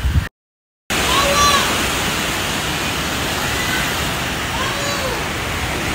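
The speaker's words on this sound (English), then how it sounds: "It's raining! Wind speeds have crazy picked up." Heavy rain and wind make a dense, constant roar of broadband noise after a brief cut of silence near the start.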